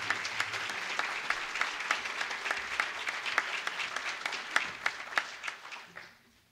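An audience claps to welcome a speaker to the podium at an evening lecture, sustained applause from a room of people with sharp individual claps that fades out at the end.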